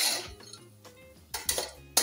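Chopped tomatoes and salt are stirred in a pan, with a metal spoon scraping and clinking against the cookware in a few close, sharp knocks amid softer scraping, with no voices.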